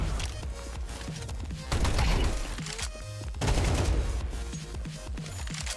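Rapid rifle spray gunfire in Counter-Strike 2 on the new Mirage map, dense overlapping shots in continuous bursts that swell twice, loud and close throughout with no talking.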